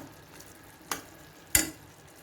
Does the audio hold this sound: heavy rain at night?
no